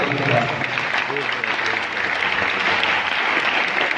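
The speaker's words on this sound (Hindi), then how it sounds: "जोरदार ताली बजाएं" A church congregation claps loudly and continuously at a Christian service, dense crowd applause mixed with a voice speaking over it throughout.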